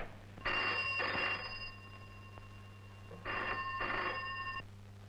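Old landline telephone bell ringing in two long bursts with a pause between, an urgent trunk call coming through to a police station in an MGR-era Tamil film, loud and alone.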